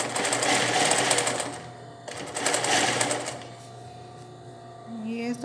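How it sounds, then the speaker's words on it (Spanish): A sewing machine stitches an invisible zipper into fabric, with two close bursts of fast, rattling needle motion separated by a short pause, then quieter mechanical sounds. "y ya voy a pegarlo, voy a costurarlo todo"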